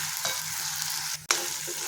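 Green paste sizzles and fries in a pan while being stirred steadily for a Gujarati dana muthiya shaak, with a brief drop in the hiss followed by a sharp scrape of the spoon.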